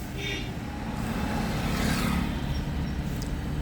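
A car's engine rumbles low and steady as it pulls away during a parallel parking lesson, a continuous close drone with no one talking.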